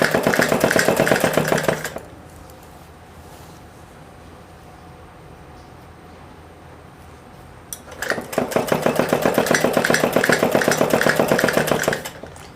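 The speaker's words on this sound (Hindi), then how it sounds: "और यहाँ पर बारीक सिलाई लगाएंगे क्योंकि इस पर हमारी तुरपाई नहीं होगी" A sewing machine runs a fine seam along palazzo pants being taken in to a smaller size, a steady rapid whirring burst for about two seconds, a quiet pause, then a second longer run of close, even stitching.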